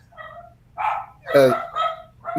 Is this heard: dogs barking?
yes